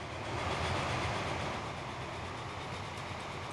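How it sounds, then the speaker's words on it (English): Trains rolling between cities in the transport simulation game Transport Fever, a steady dense rumble with faint rhythmic clatter of wheels on track, loud and continuous throughout with no talking. "So the trains are moving things from city to city quite effectively."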